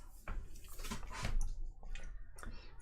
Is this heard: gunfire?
no